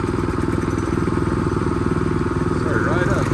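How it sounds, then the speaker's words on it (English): A Predator 224cc engine fitted to a Coleman B200RSV minibike runs loud and close, a steady throbbing idle with rapid even pulses throughout, the engine note holding constant with slight clattering mechanical noise on top. "We just start it up, let it run for a few minutes"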